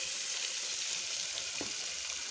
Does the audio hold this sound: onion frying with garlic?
yes